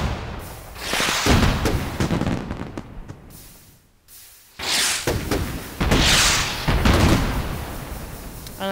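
Minecraft fireworks burst one after another in loud booming explosions with crackling tails, separated by a short near-silent lull before more rapid bursts follow.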